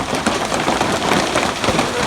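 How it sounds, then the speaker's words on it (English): Hail pelts down hard during an afternoon storm, a loud, dense, close-up clatter of countless impacts that continues without a break. "Yeah, I'm getting hail."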